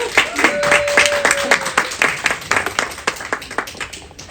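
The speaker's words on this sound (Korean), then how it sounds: "여러분 박수로 환영해 주십시오." Audience applause welcoming a professor to the stage for a Bible seminar lecture on Ephesians, a steady patter of many hands clapping that holds at an even level throughout.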